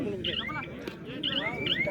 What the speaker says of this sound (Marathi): दरम्यान बीपचा आवाज येतोय